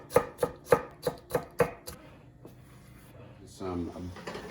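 A knife chops vegetables into a small dice on a cutting board, six crisp, evenly spaced strikes close by, then a pause before a voice speaks.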